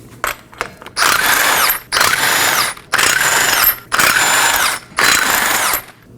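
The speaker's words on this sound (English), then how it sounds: "we're going to locate 5 21mm lug nuts. Remove these as well." Loud bursts of a ratchet wrench spinning off 21mm lug nuts from a Toyota Corolla front wheel, five or so close buzzing runs separated by short gaps, with no talk.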